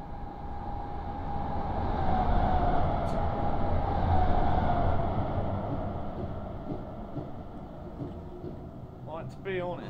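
A Class 319 electric train in Train Simulator 2018 on the Midland Main Line hums and rumbles steadily with a faint tonal whine, a few short clicks and beeps near the end.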